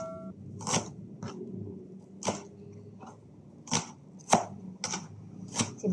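Onions being chopped on a cutting board for a cucumber dish, sharp knife strikes landing one by one in an uneven rhythm with pauses between, close and fairly quiet against a faint room hum.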